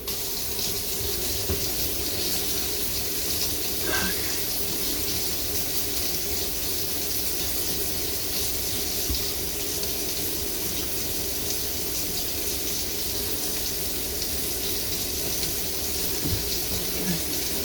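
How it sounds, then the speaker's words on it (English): Water runs steadily from a tap into a kitchen sink fitted with a newly installed Waste King L-8000 waste disposal unit, a loud continuous splashing rush that holds unbroken throughout. "I'm going to run a load of water through it and just make sure that we don't get any"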